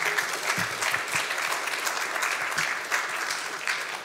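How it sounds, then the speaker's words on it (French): An audience applauds a conference speaker after a talk on spatial sound perception, steady clapping filling the room throughout with no voices over it. "je propose qu'on applaudisse notre conférencier"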